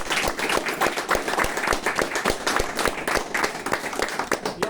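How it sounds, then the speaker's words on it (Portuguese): A church congregation applauds after a Bible reading, dense rhythmic clapping from many hands that holds steady and moderately loud for the whole stretch, with no talk over it. "Vamos aplaudir a palavra de Deus"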